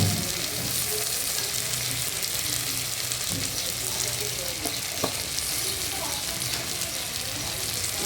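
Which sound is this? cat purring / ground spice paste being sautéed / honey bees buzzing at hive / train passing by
ground spice paste being sautéed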